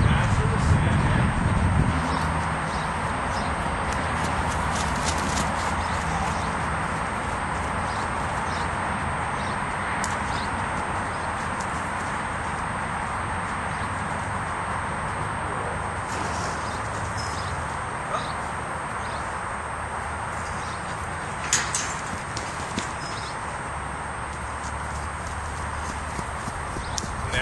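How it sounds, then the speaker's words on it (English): Hooves of the mare Patsy clip-clop on soft ground during a first round pen session, faint scattered footfalls under steady outdoor ambience, with someone talking now and then. "she's acting like a wild horse."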